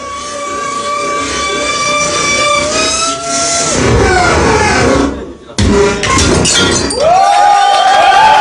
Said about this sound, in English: the man who is able to create music with broken glass